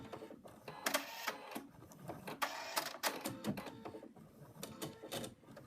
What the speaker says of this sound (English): Now I'm going to stitch out color 2, and that's going to go right around the little rectangle here.